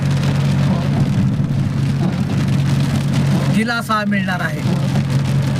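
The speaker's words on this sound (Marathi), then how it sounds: "मुसळधार पावसाच्या सरी मायनी भागात कोसळत आहेत" A heavy afternoon downpour in the Mayni area in early June makes a constant, loud broadband hiss of falling rain throughout, with a low hum underneath. A reporter speaks briefly over it.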